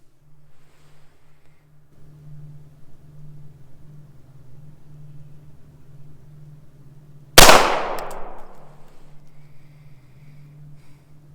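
A single loud pistol shot from a Beretta M9A3 on an outdoor range, one sharp crack with a ringing decay after several seconds of quiet background hum.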